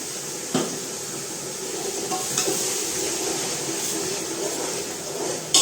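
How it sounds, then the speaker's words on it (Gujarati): Tomato gravy being stirred in a pan for a home-cooked tiffin, giving a steady soft sizzle with scraping stirs throughout and a few sharper clinks of the utensil against the pan. "હવે આપણે એમાં નાખશું ટમેટાની ગ્રેવી. બધું મિક્સ કરશું."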